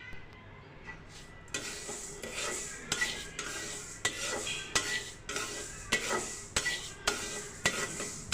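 Chicken skin fries and is stirred in a pan, with a steady sizzle under repeated scraping and clinking strokes of a utensil against the metal, close and fairly quiet, with no voices.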